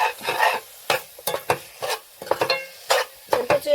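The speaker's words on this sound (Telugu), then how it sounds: "చింత చిగురు వేసుకున్నాక బాగా కలుపుకోవాలండి" Tamarind leaves stirred into a frying silver fish curry, a spoon scraping the pan in irregular, close strokes over a low sizzle, with no voices.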